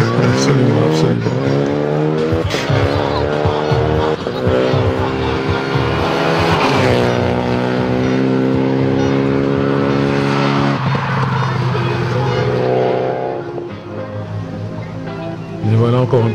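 A yellow Japanese rally car powers through a stage of the Rallye des Grands Fonds in Château-Gaillard, its engine loud and close, rising and falling through gear changes, with tyre squeal and spectator voices mixed in.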